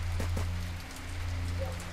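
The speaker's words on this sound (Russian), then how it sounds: "Ох ты, звук дождя интересный." Steady rain patters on a surface in the video game S.T.A.L.K.E.R.: Shadow of Chernobyl, at the Cordon checkpoint, with a low constant hum beneath and a couple of soft thuds near the start.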